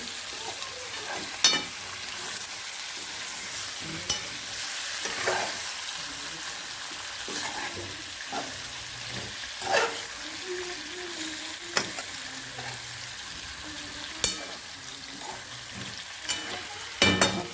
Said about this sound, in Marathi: मस्त पैकी हलवून घ्यायला लागते